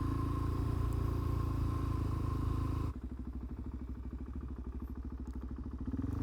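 Motorcycle engine pulling away on a half-engaged clutch: a steady engine hum, then after a few seconds a rhythmic pulsing chug as the power is fed in, moderately close with no voices.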